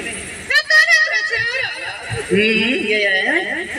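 A horse neighs in a loud, shaky whinny near the start, amid lively talk and laughter from several people in a Hindi comedy sketch.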